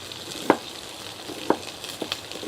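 Thin slices of food frying in a pan over medium-high heat give a soft steady sizzle, broken by a few sharp clicks and taps as pieces are moved, close and fairly quiet with no talk.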